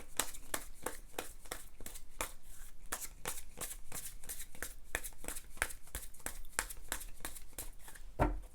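Tarot cards being drawn and shuffled, a steady run of crisp, evenly spaced riffling snaps, close and fairly quiet, continuing for several seconds without talk.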